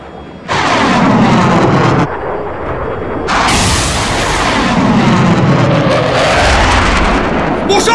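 Military aircraft roar loudly overhead in a war film scene, in two big swelling passes that sweep down in pitch, mixed with booming rumbles.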